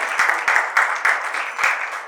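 Audience applause honouring a guest mentor at an oath-taking and felicitation ceremony, a steady wash of many hands clapping with a few sharper individual claps standing out, fairly close and continuous.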